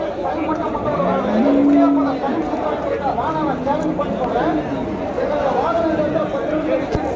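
Vaniyambadi cattle market, with cattle mooing amid a steady crowd chatter of buyers and sellers, voices close and continuous throughout.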